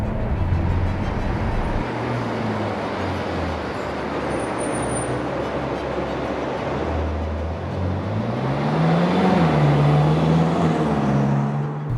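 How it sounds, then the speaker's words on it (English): Ferrari convertible cruising in comfort mode over bumpy suburban roads in North Dallas, a steady low engine drone and road rumble from inside the cabin, the pitch rising slightly late on. "So right now I've got this thing in comfort mode and I'm just heading down some standard suburban roads here in North Dallas."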